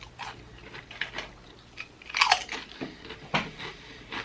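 Close-miked crunching and chewing of Hot Cheetos, Doritos, Takis and nachos with cheese: a string of sharp, crisp bites and crackly chews in an irregular rhythm, quiet between the louder crunches.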